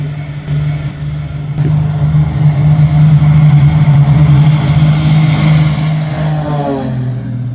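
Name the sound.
small airplane engine during takeoff roll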